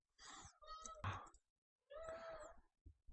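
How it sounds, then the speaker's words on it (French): A cat lets out two drawn-out, whiny meows close by, separated by a short pause. "Le chat de retour."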